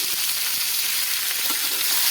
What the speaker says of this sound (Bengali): মাছটা এইভাবে একটু তাওয়া ধরে এরকম একটু ঘুরিয়ে নেব মাছ আমার ভাজা হয়ে গেছে